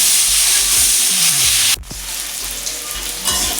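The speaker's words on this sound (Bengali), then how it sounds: "এবারে সবজিগুলো আমি একটু ভেজে নেব" Vegetables fry loudly in a pan with turmeric and salt, a close, dense sizzle that dips briefly after a knock, then carries on with light stirring.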